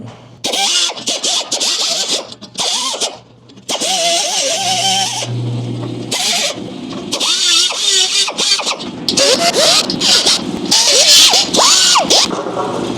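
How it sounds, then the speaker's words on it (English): A die grinder gouges bad welds out of a Scout's metal body, cutting in harsh, scratchy bursts broken by short pauses, loud and close, with tool pitch rising and falling as the bit bites. "I'm going to use my die grinder to gouge out these bad welds a little bit"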